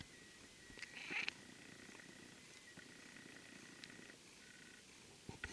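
A cat purring softly and close, a low steady rumble running through a quiet room with faint background noise, a brief brighter rustle near the start and small clicks toward the end.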